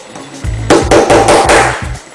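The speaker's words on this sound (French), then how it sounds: "le petit marteau" A small hammer taps a flat screwdriver wedged in the notch of a watch case back, giving a short series of about five close, sharp metallic knocks with no talk.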